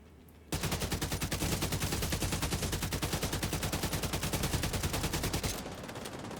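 AK rifle gunfire in a video game, a long, loud, rapid automatic burst of evenly spaced shots lasting about five seconds after a quiet start, then tapering into a softer tail.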